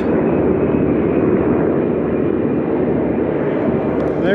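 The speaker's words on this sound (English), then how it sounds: "There's the airplane." Airplane engine roaring overhead in a video game, a steady broadband drone holding loud and constant throughout with no break.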